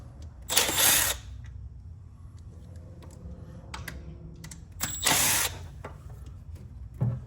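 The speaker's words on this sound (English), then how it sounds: "So we're going to go ahead and pull these ones off and we'll lose that bolt and that one." Wrench work pulling valve cover bolts off a 1960 Ford Fairlane, two louder metallic bursts of rattling clicks standing out against a steady low background, with quieter scattered ticks between them.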